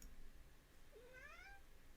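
A pet cat gives a single clear meow, rising then falling, fairly close by over a quiet room background during a hobby live stream.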